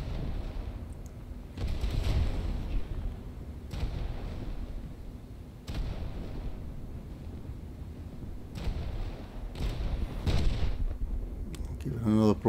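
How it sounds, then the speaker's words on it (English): Naval gun broadsides from a Scharnhorst battleship in World of Warships, several heavy booming salvos at intervals of a few seconds over a steady low rumble of game ambience. "Another broadside and see if that takes care of business"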